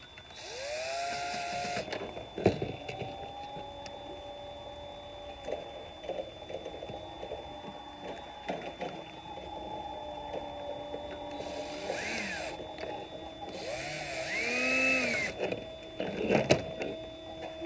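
A small power screwdriver reattaches a light socket in an umbrella light fixture, whirring in short bursts whose pitch rises and falls as the screw drives, close up with handling noises in between.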